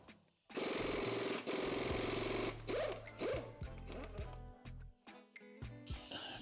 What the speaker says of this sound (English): Now we have room to fit the gun and pull this harmonic balancer off.